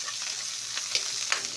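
Onions frying in a pan while being stirred, a dense continuous sizzle with a couple of brief scraping strokes, close and steady.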